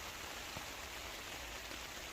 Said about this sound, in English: I'll just give you a minute to enjoy, you know, the sound of the rain.